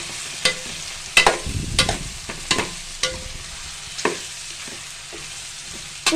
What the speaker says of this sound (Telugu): ఇప్పుడు ఇది ఒక్కసారి ఇట్లా కలిపేసి